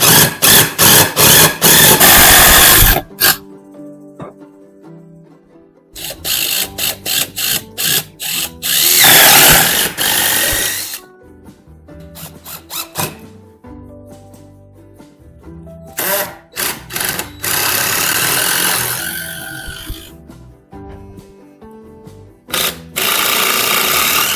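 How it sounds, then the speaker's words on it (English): Cordless power drill driving screws into solid wood boards for a small raised garden bed, loud repeated bursts of motor whir and ratcheting with short pauses between screws, close up, no talking. "All I'm going to do is screw these in from the outside."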